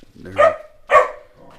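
A dog barks twice in quick succession from far away, a couple of sharp, fairly clear woofs with a short pause between them, followed by a faint trailing whine.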